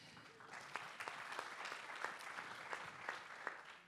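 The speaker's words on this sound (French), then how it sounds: "Vous pouvez vous applaudir, c'est gratuit." Applause from a festival audience at the West Web Festival 2022, fairly faint and steady with scattered sharper claps across the whole stretch and no talking over it.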